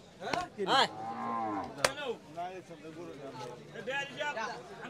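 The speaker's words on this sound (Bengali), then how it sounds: "দেখবো আমরা এদিকের গরুগুলো দাম দর জানবো" Cattle at the Chandina market in Cumilla, many thin and bony, let out loud drawn-out moos one after another, with overlapping calls from several animals across the busy yard.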